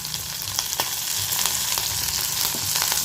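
Onions and curry leaves sauté in a pan, a dense continuous sizzle with scattered crisp pops and stirring scrapes throughout, close and fairly loud.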